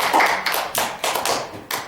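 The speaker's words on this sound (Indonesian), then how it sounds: "Bisa kita berikan aplaus buat Mas Rika." Classroom applause for a student during a micro-teaching biology lesson, heard as a few short bursts of clapping with brief gaps between them, close and moderately loud.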